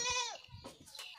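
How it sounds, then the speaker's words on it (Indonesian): A goat kept with a billy goat on a small livestock farm gives one close, wavering bleat that drops in pitch, followed by faint rustling and softer animal sounds. "Ini jadi satu dengan kambing jantan."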